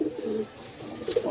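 Madrasi pigeons give a few soft, throaty coos close by, short rolling calls with a brief pause between them.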